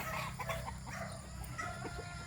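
An eight-month-old Boston Black stag, a young rooster, gives a run of soft, low clucks at a moderate distance, the short calls repeating unevenly over a faint steady background.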